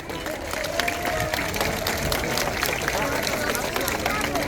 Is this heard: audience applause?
yes